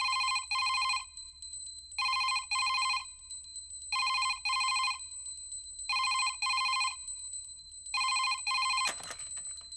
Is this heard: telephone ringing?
yes